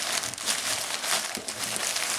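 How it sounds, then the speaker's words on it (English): Packing paper crumpled while a trading-card grading submission is boxed up, giving a steady close crinkling rustle that continues for the whole short stretch, with no talking. "Put the packing paper there."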